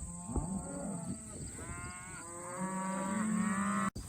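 Ranch cattle low repeatedly, several drawn-out moos overlapping at close to middle distance against a steady outdoor background, with no one talking.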